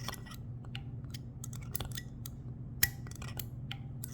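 A gun action clicking against the dwell, a scatter of small, sharp, close mechanical clicks and ticks at an uneven pace over quiet background hum, no talking.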